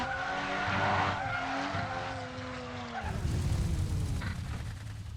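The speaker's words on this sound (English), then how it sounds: "I guess I had my first crash" A racing car in a video game skids with tires squealing in wavering tones, then crashes into a rougher, noisier scrape and rumble, loud and close, with no talking.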